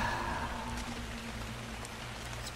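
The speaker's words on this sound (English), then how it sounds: "of course it's raining" Soft, steady in-game rainfall in ARK: Survival Evolved patters on a surface, faint and continuous, with a low hum underneath and no voices.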